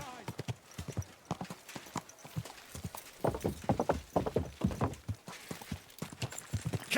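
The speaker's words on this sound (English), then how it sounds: "Easy, good horse." Horse hooves clip-clopping at a brisk, irregular walk, close by, with a few heavier stamps partway through, in the video game Kingdom Come.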